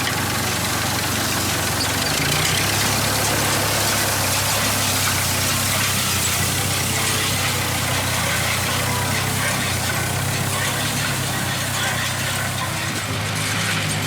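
A hay baler's engine runs steadily on a homestead, a loud continuous rumbling drone with mechanical clatter and rattling throughout, no voices.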